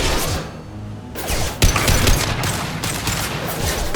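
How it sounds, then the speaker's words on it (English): Impact gun firing in Mass Effect 2 Legendary Edition: a loud, dense burst of rapid shots that runs on continuously, with a sharper crack near the middle. "Firing an impact gun."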